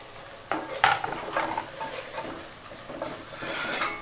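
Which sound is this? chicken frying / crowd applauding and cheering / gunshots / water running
chicken frying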